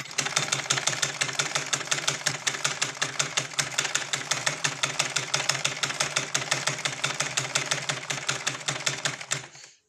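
A sewing machine runs steadily while stitching a blouse, a fast even mechanical clatter repeating for about ten seconds at close range, then slowing and stopping at the end.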